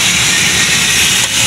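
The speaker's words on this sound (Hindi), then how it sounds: "चिकन को मैंने अभी डाल दिया, इसको हम अच्छे से पेस्ट में फ्राई करेंगे लहसुन अदरक के और प्याज के पेस्ट में" Chicken fries in a pan of garlic, ginger and onion paste with a loud, dense, steady sizzling hiss that barely wavers from start to finish.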